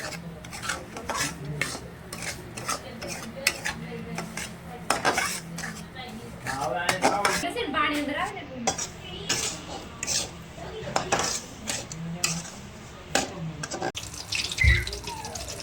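Hot green-coloured water poured into roasted semolina and sugar in a pan for village-style suji halwa, with clattering metal utensils, stirring scrapes and splashing water, close and fairly quiet throughout.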